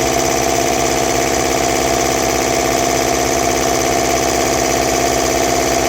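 A vintage Sears air compressor runs steadily and close by, a constant mechanical drone with a fast rhythmic pulsing throughout, no voices.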